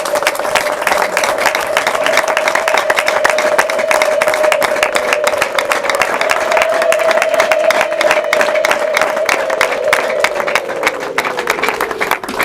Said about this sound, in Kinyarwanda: Abagabo amashyi muyakome.